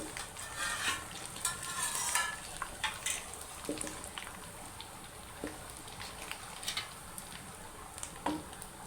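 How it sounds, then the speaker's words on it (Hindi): Ginger-garlic paste for an aloo chicken curry sizzles and fries in a pan while a spoon stirs it, giving soft crackling, scraping and wet patter up close, with no talk. "अब आप इसमें अदरक लहसुन का पेस्ट ऐड कर दें और चम्मच को हिलाते रहें।"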